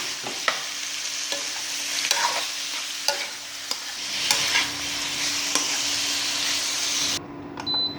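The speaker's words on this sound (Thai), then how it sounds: "เราก็จะใส่ มะเขือยาวลงไปผัดต่อนะคะกับหมูนะคะ" Pork belly and eggplant stir-fried in a pan, a steady broad sizzle with repeated sharp scrapes and clinks of a utensil against the pan, ending abruptly.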